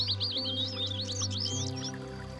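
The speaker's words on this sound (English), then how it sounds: "I can hear birds tweeting" Birds chirp and tweet in quick trilling phrases within the VR nature game Nature Treks, fairly faint over a steady low ambient hum and soft background music.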